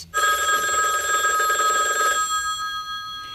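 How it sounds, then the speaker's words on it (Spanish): A telephone bell rings loudly and continuously for about two seconds, then stops, leaving a faint fading ring and quiet room tone. "Me parece que suena el teléfono."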